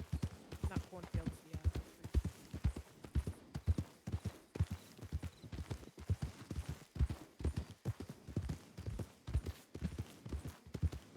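Horses trot steadily in a video game, their hooves striking in a brisk, even clip-clop rhythm that continues for the whole stretch, close and distinct over faint background ambience.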